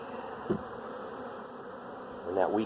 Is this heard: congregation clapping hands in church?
no